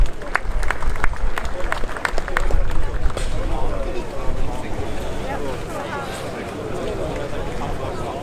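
Outdoor audience applauding at a prize-giving ceremony at a Saab car museum festival, dense sustained clapping that gradually thins and softens, with crowd chatter mixed in.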